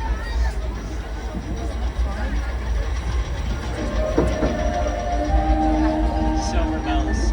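Frisco steam train cars rumble and clatter steadily along the track, a low continuous rolling noise with occasional squeaks and metallic clanks, while passengers chatter in the background.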